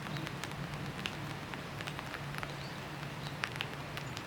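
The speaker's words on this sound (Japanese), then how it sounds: "雨音がダイレクトに車内に当たってきます。" Heavy rain before a typhoon drums on the roof of a DIY mini truck camper, a dense steady patter with scattered louder drops heard from inside, quiet and continuous with no talking.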